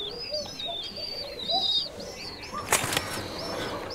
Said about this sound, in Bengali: এখানে দেখতে পাচ্ছেন এক জোড়া কালার ম্যাচিং সুন্দর কবুতর